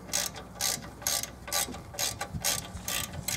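A hand ratchet clicks in quick, evenly spaced bursts, close and clear, as bolts are loosened to remove a Chevy Blazer disc brake caliper, about seven strokes with no speech.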